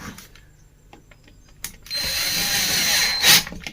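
Power drill driving screws into a water heater drum, heard as faint clicks, then a sustained loud whirring drive that peaks sharply near the end.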